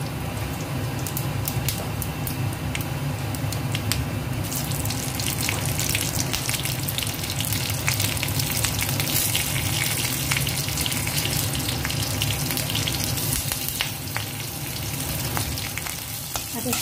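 Panch phoron five-spice mix fries in hot oil while a healthy vegetable dish is cooked, giving a loud, continuous close sizzle with scattered crackles and pops that carries on steadily.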